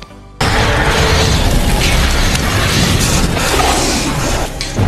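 A mall explosion in an animated story bursts in suddenly after a brief quiet moment, then sustains as a loud, dense roar of rumble and crashing debris for several seconds.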